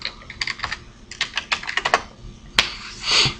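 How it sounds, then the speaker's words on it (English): Keys clatter on a computer keyboard as a web address is typed into a browser address bar, with quick irregular bursts of close, crisp clicks and a louder final keystroke, like the Enter key, near the end. "I'm going to go ahead and type it right here in my address bar"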